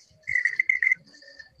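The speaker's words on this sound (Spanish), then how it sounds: "Tiene un grillo ahí." A cricket chirping nearby at a home birthday gathering, a short bright trill followed by fainter repeated chirps, heard on its own with low background.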